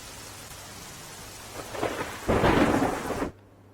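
Heavy rain hisses steadily in Palanpur, Banaskantha, Gujarat, swelling into a louder rumbling burst of thunder that cuts off abruptly.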